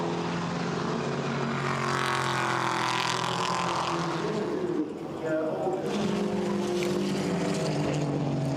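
GT4 race cars, a KTM chasing a McLaren at Zandvoort, roar past with rising and falling engine whine, a brief dip midway, under continuous commentator talk.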